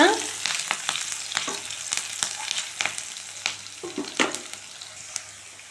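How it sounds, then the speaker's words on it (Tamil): Garlic, ginger and green chili sizzle steadily in a hot pan while a utensil scrapes and stirs, giving irregular clicks and scratches over the frying hiss. "இஞ்சி, பச்சை மிளகா இதெல்லாம் போட்டு வதக்கிக்கோங்க."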